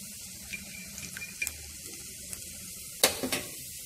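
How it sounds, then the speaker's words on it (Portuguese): Tomato sauce from a local factory goes into a hot pan for homemade hot dogs, giving faint scattered crackles followed by a sharper sizzling burst near the end. "Agora vamos colocar então aqui molho de tomate"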